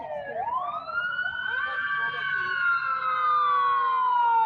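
Fire engine 26's siren wails past, a loud rising then slowly falling tone that holds steady and close throughout.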